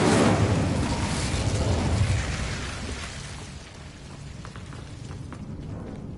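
Fire spell cast in a Hogwarts Legacy game, a loud whooshing, crackling burst that swells for about two seconds and then tails off into a softer rumbling hiss.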